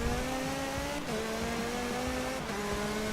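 Several race cars in the Forza Motorsport 7 racing game roar together at a steady high engine pitch, with two quick gear-shift dips and brief rises in revs, loud and continuous with no talking.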